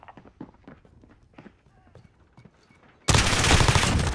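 Sustained loud burst of gunfire in the video game Modern Warfare erupts abruptly near the end, after a stretch of quieter footsteps and scattered shots, continuing dense and close.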